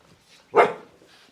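A single sharp dog bark, close and loud, rising abruptly out of near silence and fading quickly.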